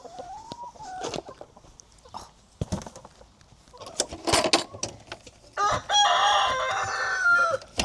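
Chickens clucking and a rooster crowing inside a farm coop, with bursts of squawking and flapping close by and a loud crow toward the end.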